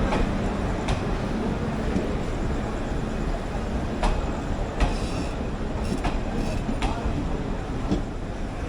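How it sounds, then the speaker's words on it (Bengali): The Kolkata–Patna Garib Rath train rolls into platform 1 at a station, with a steady loud rumble and scattered clicks and clanks of wheels over rail joints throughout. "কলকাতা পাটনা গরিব রথ ঢুকে গেছে"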